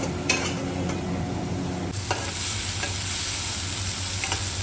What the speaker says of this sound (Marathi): आता हे ब्राऊन थोडंसं होईपर्यंत त्याला तो सॉटे करणार आहे